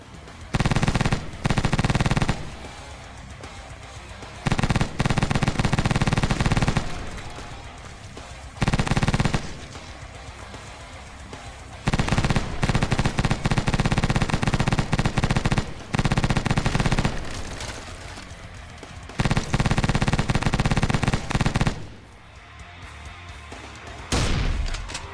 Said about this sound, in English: The chain gun and shotgun are probably the most fun to use.